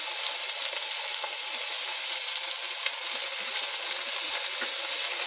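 Two pounds of ground beef and two pounds of hot Italian sausage sizzle in smoking-hot oil in a pan for chili. The frying hiss is loud and continuous, with occasional pops and no talking.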